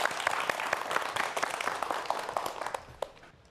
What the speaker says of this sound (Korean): 박수 부탁드리겠습니다.